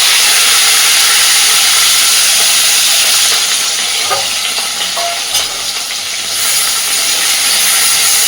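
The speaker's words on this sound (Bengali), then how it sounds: "ফোড়নে দিচ্ছি একটু কালো জিরে, আর দিচ্ছি পেঁয়াজ কুচি, টমেটো কুচি আর চেরা কাঁচা লঙ্কা।" Chopped onion, tomato and slit green chili fry in hot oil with nigella seeds, a constant loud sizzle and hiss with occasional stirring clinks, no talking.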